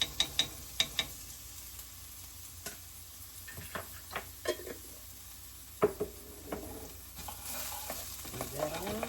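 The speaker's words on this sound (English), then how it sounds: "I need to get garlic in here and get it sweated out" A heaping teaspoon of garlic sweats in oil in a pan as a soft, steady sizzle runs underneath. Scattered utensil taps and stirring clicks come through sharp and close.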